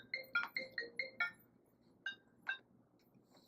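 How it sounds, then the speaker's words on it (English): A phone rings with an incoming call: six quick electronic trill bursts in a steady rhythm, followed after a pause by two fainter chirps, fairly close and clear with no talk over it. "I'm getting a phone call"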